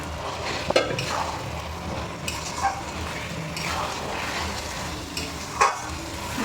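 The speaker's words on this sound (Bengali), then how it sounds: "এবার দিয়ে দিচ্ছে চাল আর ডাল।" Rice and lentils go into a hot pan with cumin-tempered oil for khichuri and are stirred, giving an even sizzle broken by a few spoon scrapes and light knocks against the pan, with no talking.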